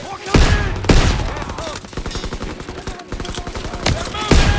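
Gunfire in the World War II shooter Call of Duty WW2 rings out as loud rapid bursts with several heavy individual shots in between, while voices shout over the battle.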